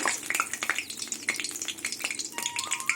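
Dried red chillies and bay leaves hit hot mustard oil in a pan, giving a steady close sizzle studded with sharp crackles and pops, heard alone without voices.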